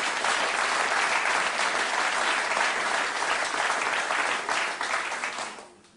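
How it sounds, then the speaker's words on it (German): Dense, sustained applause from a cabaret audience fills the clip, steady and loud before fading out near the end. "Applaus"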